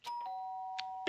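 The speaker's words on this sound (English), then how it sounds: "did I hear the doorbell?" A two-tone chime rings in Danganronpa, a clean sustained tone that rings clearly against a quiet background, followed by a brief burst of voice at the end.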